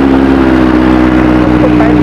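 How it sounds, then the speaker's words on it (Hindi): A Benelli superbike engine idles just after starting, its exhaust note a loud, steady, throbbing low rumble close to the microphone, with no talking over it. "तो ये इसका एग्जॉस्ट नोट है, स्टार्ट हो चुका है।"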